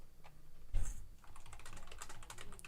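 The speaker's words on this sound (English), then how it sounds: "Just a little typing." Someone types on a computer keyboard: a quick burst of clicks, a heavier thump, then a steady run of close, light keystrokes with no talk.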